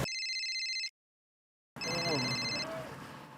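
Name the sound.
phone ringing with an incoming call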